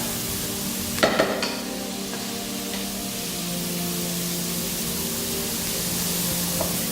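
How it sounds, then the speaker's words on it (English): Onions fry and caramelise in a pot as a steady, close sizzle, with a few sharp stirring clatters near the start before the hiss settles into an even, continuous crackle. "we want to make sure that our onions are nice and sort of caramelizing"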